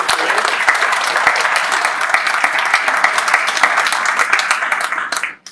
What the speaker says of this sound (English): Let's get another round of applause for all three of our speakers today.